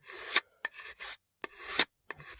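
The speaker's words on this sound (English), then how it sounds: "Start by scraping with a very thin gauge sheet of sheet metal" A thin sheet of sheet metal scrapes the finish off a wooden shotgun stock in a series of short, dry rasping strokes, some long and some quick, close up and alone.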